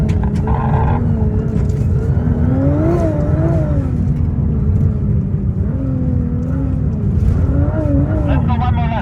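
A Nissan R35 GTR engine revs steadily on an ice rally track, loud and close, its pitch rising and falling through repeated surges with a constant roar underneath.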